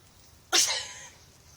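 A single sharp, close sneeze bursts out from near silence and fades quickly.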